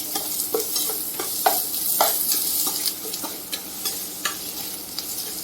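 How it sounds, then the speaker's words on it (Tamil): Chopped shallots fry in hot oil for egg gravy, a steady crackling sizzle with sharp spatula scrapes and stirring taps scattered throughout, close and alone. "சின்ன வெங்காயத்தை போட்டு வாங்கிக்கலாம்"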